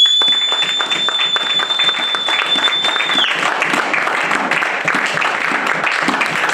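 A church congregation applauds and cheers their God in loud, sustained clapping that fills the room, dense and steady throughout, with a high sustained tone fading out midway.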